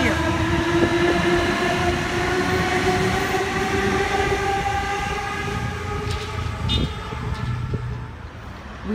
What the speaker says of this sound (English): We have a Waratah arriving onto platform number 2.